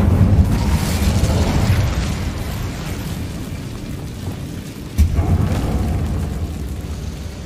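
Hogwarts Legacy's Incendio fire spell bursts in a loud, booming whoosh of flame over a rumbling roar, with a second sharp burst about two-thirds through, and no other voices.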